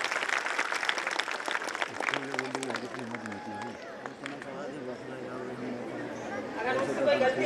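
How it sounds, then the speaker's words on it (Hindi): An audience at a school annual function claps in a brief burst at the start, then the sound gives way to a voice and crowd chatter in a fairly quiet hall. "ऑडियंस एक बार तालियां बजा दीजिए"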